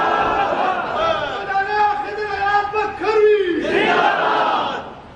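A crowd at a religious gathering chants a slogan in unison, loud massed voices rising and falling in a drawn-out rhythmic cry, close and filling the space.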